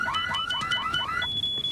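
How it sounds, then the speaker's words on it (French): An alarm going off in a museum during a diamond theft: a rapid, repeating electronic warble with rising sweeps, fairly loud and close, ending in a sustained high tone, with no voices. "Au moment où l'alarme s'est enclenchée,"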